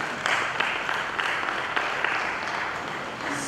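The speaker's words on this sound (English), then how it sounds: "Please clap for him." An audience at a campus dialogue event claps steadily, a dense patter of many hands filling the hall for a few seconds without voices.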